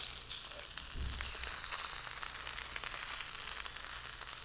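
A salmon fillet fries skin-side down in a hot pan, giving a steady, continuous sizzle with fine crackling that holds close and fairly loud throughout, with no talking.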